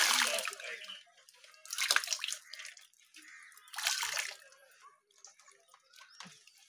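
Water drips and splashes from a tie-dye cloth being wrung hard, arriving in short bursts of patter separated by quiet pauses, close and fairly faint with no talk.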